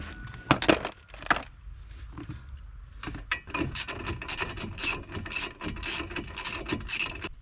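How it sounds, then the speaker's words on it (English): A ratchet with a 15mm socket tightens wheel bearing bolts, giving quick repeated metallic clicks after some louder clanks, close and steady with no talking. "for these 2 bolts, you can use a 15mm socket"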